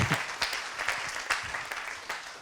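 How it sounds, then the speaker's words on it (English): An audience applauds at a conference cabaret event, a short burst of clapping with distinct individual claps, fairly close and steady throughout. "applause."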